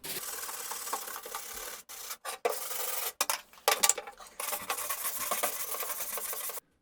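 Vigorous scrubbing of dirty marks off a Commodore 1541 disk drive's plastic case, rough rubbing strokes in several bursts separated by brief pauses, close by with no talk.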